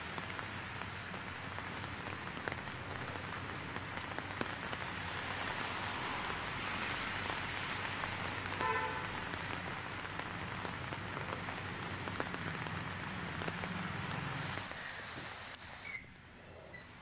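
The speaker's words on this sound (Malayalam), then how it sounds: "മഴയാണ് കേൾക്കാൻ കഴിയുണ്ടോ എന്നറിയില്ല." Steady rain falls in Kochi, Kerala, a constant broadband hiss of drops on surfaces lasting throughout, with no voices, easing off sharply near the end.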